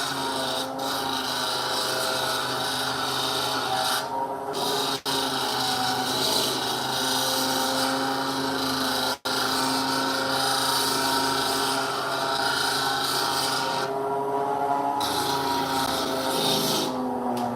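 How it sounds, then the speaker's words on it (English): Continuous whirring and grinding of a lapidary machine polishing a red, white and blue lace agate cabochon, steady and close, with a few brief dips where the stone is lifted away. "So I'm polishing this cabochon."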